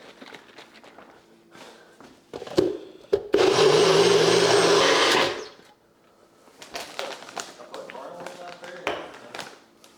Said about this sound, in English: Blend this bad boy up.